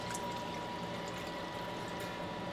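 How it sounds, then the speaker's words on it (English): Strained lemon juice pours steadily into a pan of dissolved sugar and butter, a soft continuous liquid trickle and splash with a faint background hum, no talking. "we're going to pour and strain 1 cup of lemon juice"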